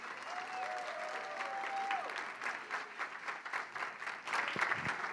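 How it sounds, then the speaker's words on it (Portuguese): Audience applause at a comedy hypnosis show, steady clapping from a crowd that swells toward the end, with a few whistles and cheers mixed in. "uma salva de palmas para os nossos astros"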